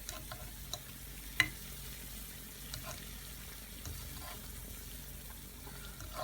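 Unniyappam frying in oil over a low flame gives a soft, steady sizzle with a few faint clicks and pops, heard alone with no talking.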